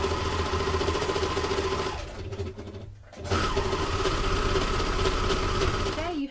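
A serger overlocker stitches a rippled lettuce hemline, its motor whirring in a loud, steady buzz that drops out briefly midway, then resumes at full speed.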